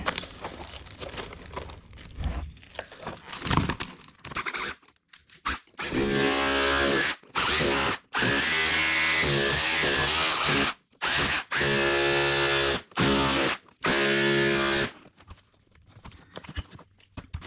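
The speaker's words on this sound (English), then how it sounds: "Try and take that brick out. Try and chisel underneath it. Get my cutter in." A power cutter cuts into brickwork to remove a brick, with a loud, close whining grind in several bursts broken by short pauses, after earlier scraping and tapping.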